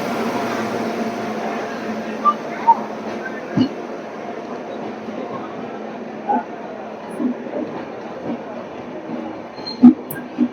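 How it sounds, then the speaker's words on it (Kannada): A train passing at a railway station, a steady rumble with occasional clanks and squeaks and a faint voice in the background. "ಗೈಸ್ ನಮ್ ಟ್ರೈನ್ ಬಂದು ನಿಂತ್ಕೊಂಡು ಹೋಗಾದ್ಮೇಲೆ ಪಾಸ್ ಆಗ್ಬೇಕಾಗಿರೋ ಟ್ರೈನ್ ಇದು"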